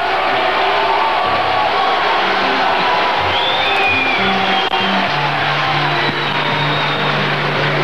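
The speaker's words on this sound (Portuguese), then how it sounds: "De forma que vocês podem vaiar à vontade." Festival crowd booing during the 1967 3rd Festival da MPB final: a loud, dense, continuous crowd roar with low bellowing hoots and scattered shouts filling the whole stretch.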